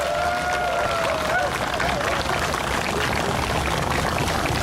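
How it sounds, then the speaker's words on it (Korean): An audience at a Gwangju mayoral campaign launch claps in a dense, unbroken wash. A faint tonal whine sounds briefly near the start. "큰 박수로 한번 치고 시작하도록 합시다"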